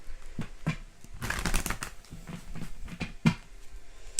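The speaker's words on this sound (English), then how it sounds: "I have to do the shuffling on camera" Tarot cards being shuffled by hand, a soft papery riffling and shuffling with a few sharper taps and clacks, close and fairly quiet, with no talking.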